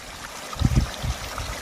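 Water flowing from a flat rock near a cave and farm fields, a soft low trickle and gurgle with a few fuller splashing surges in the middle, heard close and alone.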